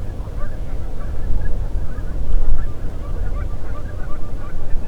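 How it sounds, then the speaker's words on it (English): A large flock of Canada geese with a few snow geese feeding in a field, honking in a dense overlapping chorus that swells and fades, loud and close with no pause. "found these geese feeding in a field by Milo. Canada geese mostly, even a few snow geese."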